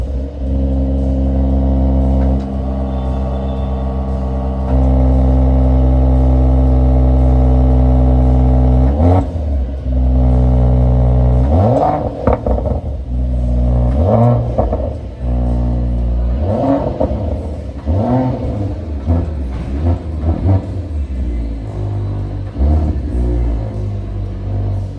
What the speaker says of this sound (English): Just listen to this exhaust note, guys. This is the stock exhaust